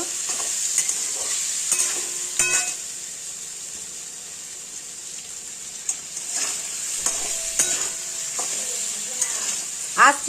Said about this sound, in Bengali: নুন হলুদ দিয়ে আমি ভাজা বসিয়েছি